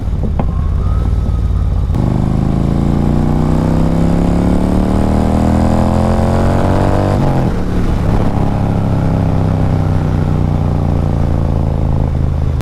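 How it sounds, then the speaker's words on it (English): A custom cholo-style bagger motorcycle's exhaust drones loud and close as the engine climbs steadily in pitch under acceleration, then dips and settles back into a steady roar. "The exhaust sounds pretty good."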